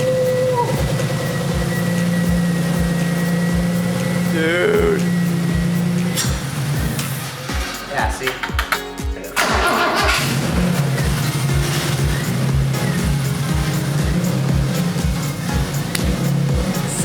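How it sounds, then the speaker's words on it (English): A BMW E30 with a swapped-in S50 engine runs with its intake off and a big air leak, giving a loud, steady, pulsing idle close by. People speak briefly over it. "It's got a huge air leak because the intake's not on, but it just turned on."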